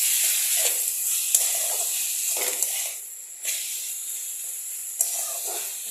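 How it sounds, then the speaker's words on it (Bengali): Prawns sizzle in a hot pan while being fried for a banana-flower prawn curry: a steady, fairly loud hiss with a few brief bursts, and no talking. "ভাজা করে রাখা চিংড়ি মাছটা দিয়ে দেবো"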